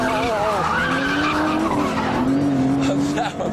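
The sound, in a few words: Aston Martin DBS rear sliding, tires skidding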